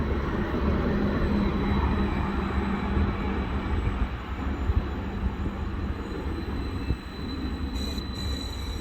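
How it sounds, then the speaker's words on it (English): Class 755 unit 755421 pulling in from Ipswich to terminate on the East Coast Main Line, a steady loud broadband rumble of the train holding throughout, with faint wheel noise and no speech. "one of them is 755421 arriving in from Ipswich"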